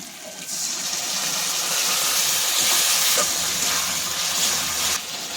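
Tomato sauce poured into a hot pan of chili chicken, a steady loud sizzling hiss that holds throughout and drops slightly at the end, no talk.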